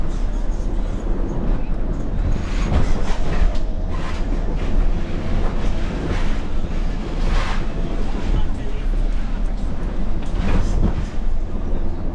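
A train rumbles steadily close by on boarding for the Eurotunnel, with heavy continuous rolling noise and wind buffeting throughout, occasional rattles and clanks rising above the roar.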